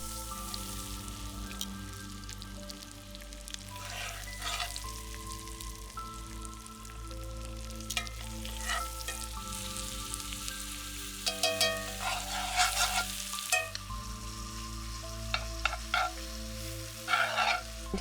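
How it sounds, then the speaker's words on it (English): Grilled bratwurst crisps in tallow and herb butter over an outdoor fire, a soft, steady sizzle with scattered pops and crackles heard beneath a low rumbling background. "Some grilled bratwurst that I'm going to crisp up in some tallow and my herb butter."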